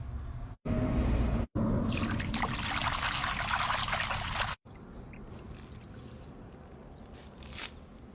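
Muddy wild vegetables being washed in water outdoors in the mountains, a close, busy splashing and trickling with a louder sloshing stretch in the middle, broken by brief cuts, then softer dribbling.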